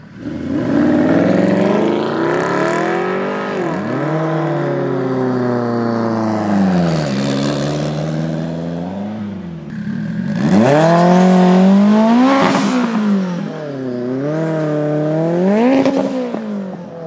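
A Nissan GT-R with big tires and no wing makes a drag racing run, its engine roaring loudly and close with rising revs, a drop at a gear change, then another hard climb.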